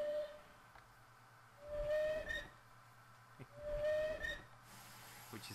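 Steam locomotive whistle in Train Simulator, SSS/DT Bulleid Light Pacific, sounding as short, thin blasts over a hissing, chuffing background, repeated a few times at moderate distance, with no talk.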